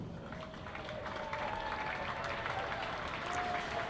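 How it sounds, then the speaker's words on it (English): A cricket crowd at Headingley applauding a bowler during a Yorkshire v Northamptonshire County Championship match: soft, distant, sustained clapping spread across the stand, with faint background murmur and a few brief tonal sounds over it. "rich applause from the Headingley crowd"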